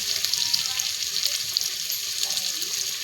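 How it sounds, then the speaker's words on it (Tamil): Mutton curry base sautéing in a pan until golden brown: a steady, bright sizzle with faint scraping stirs underneath, close and continuous, no voice heard. "இப்படி தான் பொன்னிறமாக வர்ற வரையும் வதக்கணும்"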